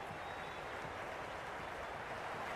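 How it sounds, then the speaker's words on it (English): Stadium crowd at a Pakistan vs New Zealand T20 match in Cricket 26, a steady, dense roar of cheering and clapping that holds at an even, full level throughout. "all these spectators here today are completely enthralled and energised, judging by that noise anyway"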